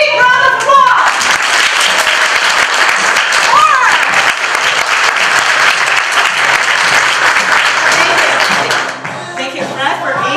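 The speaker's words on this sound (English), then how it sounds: "Let's give him a big round of applause!" An audience at a Toronto conversation event with millionaire entrepreneurs gives a loud, dense round of applause that holds steady for about nine seconds before tapering off.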